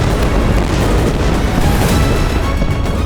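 Heavy British naval cannon fire at the Battle of Trafalgar, a dense continuous roar of booming broadside blasts that stays loud and rumbling throughout, with no clear gaps between shots.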